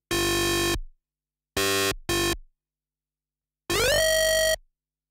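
Heavily distorted resonant bandpass synth tone in electronic music production, heard as three separate bursts: a sustained note, two short stabs, then a rising, sweeping note. Each is loud and stands alone with silence between.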